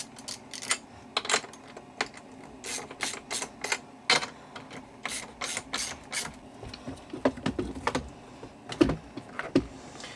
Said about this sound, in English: Okay, 4 screws, tighten this up, and we're done.